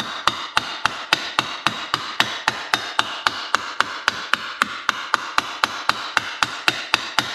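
A hammer taps metal lightly and evenly to shape a car body line, roughly three or four sharp, ringing strikes per second in a steady, unbroken rhythm, close by with no talk.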